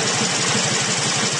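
A 2011 Harley-Davidson Road King engine at low idle, a loud, close, steady lumpy rumble with evenly spaced throbbing pulses and no voices over it.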